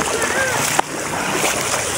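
Floodwater splashing during heavy rain near an arch in Bucana, a broad wet wash with one sharp splash in the middle, heard close and steady.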